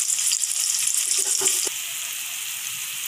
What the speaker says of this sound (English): put the onion and fry till golden brown